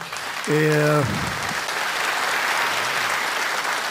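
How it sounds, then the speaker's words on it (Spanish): A crowd applauds steadily for several seconds, a short spoken voice briefly cutting in early on over the clapping. "es para vos este aplauso"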